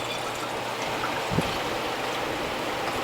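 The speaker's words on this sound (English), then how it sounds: "now I'm adding distilled water to top off my juices" Distilled water is poured into bottles of concentrated watermelon juice, a steady close splashing trickle that runs continuously and fairly loud, with no talking.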